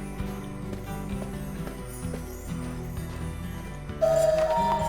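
Rhythmic horse hooves clip-clopping in the western video game Cowboy Life Simulator, set against steady background game music, with a brighter tonal sound entering near the end.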